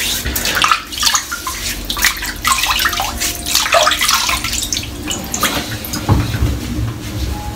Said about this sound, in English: Let's wet the head.